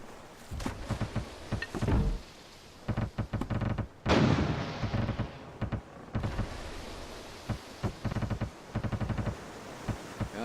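Ship cannons fire in the naval combat game Furious Seas, a series of heavy booms and thuds, some in quick clusters and one big blast near the middle, loud and close with no talk.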